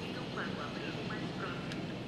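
A helicopter hovering over a park while tranquilizing escaped dinosaurs in Jurassic World Evolution, a constant rumbling rotor-and-engine drone that holds steady at a moderate level throughout.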